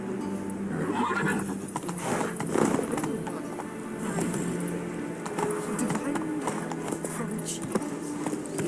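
Hoofbeats and snorts of a horse galloping in The Witcher 3 video game, steady and moderately loud, mixed with game ambience and occasional voices.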